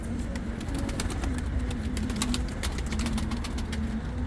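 Tumbler pigeons coo steadily and repeatedly in a low, throaty hum, with faint ticking and chirps layered over the continuous background.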